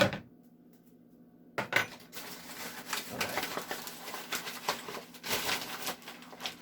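After a quiet moment, flour is tipped into a mixing bowl with soft scraping, pattering and light clinks of utensil against the bowl, close and uneven.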